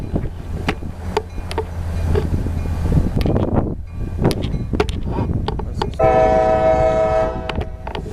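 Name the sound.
CSX tie train passing with horn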